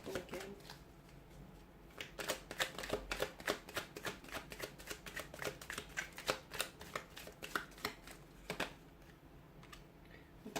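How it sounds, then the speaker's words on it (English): A tarot deck reshuffled by hand: after a brief quiet start, rapid crisp papery riffles and slaps continue in a dense rhythm for several seconds, close and clear with no talking. "We'll shuffle again."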